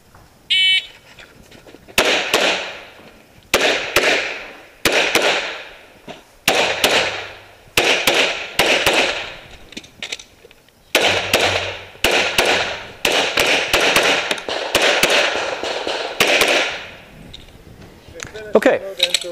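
Pistol gunshots fired during a USPSA shooting match stage, a long series of sharp loud cracks in bursts with short pauses between strings, fairly slow pacing, each shot followed by echo.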